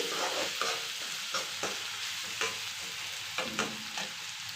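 Sliced onions fry in a pan for bhindi huli saaru, a constant soft sizzle with regular gentle stirring scrapes, close and unaccompanied by voices.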